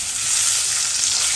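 Onion paste sizzles in hot oil with browned garlic in a pan, giving a steady, close frying hiss that holds evenly throughout the short moment.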